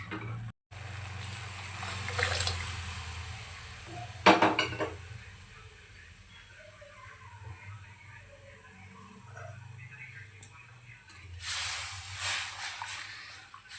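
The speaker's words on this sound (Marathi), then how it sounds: "यामध्ये आता आपण पाणी ॲड करूया" Water is poured into a pan of sautéed chana dal masala, with clattering utensil clinks and a brief rushing splash, then quieter stirring and another burst of pan noise.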